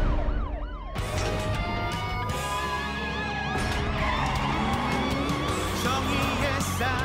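Loud wailing police sirens sweep up and down over engine and traffic noise in an animated cartoon, close and continuous, with a burst of sound starting after a quiet opening.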